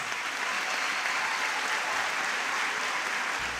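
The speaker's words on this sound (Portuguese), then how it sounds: "Salva de palmas para elas." Sustained applause from an audience for the dancers at a church Christmas cantata, steady dense clapping throughout with no talk over it.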